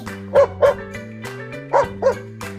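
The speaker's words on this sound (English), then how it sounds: "D for dog." A small cartoon dog barks four times in two pairs, with children's song music playing underneath.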